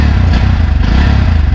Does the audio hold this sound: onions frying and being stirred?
no